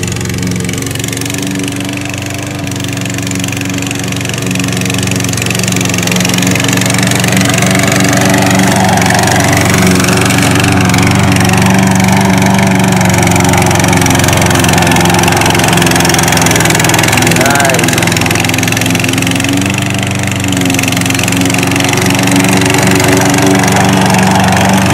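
A brand-new GOAT 22X slope mower with attachment runs continuously up close, its engine giving a loud, steady, rumbling drone with slight swells in load throughout.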